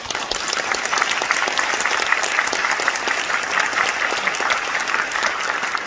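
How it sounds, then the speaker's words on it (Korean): Audience at a Korean performance of the musical Monte Cristo applauds steadily, a full, even wash of many hands clapping throughout without cheering. "서로 박수로 기쁨과 위로를 함께 나눴으면 좋겠습니다"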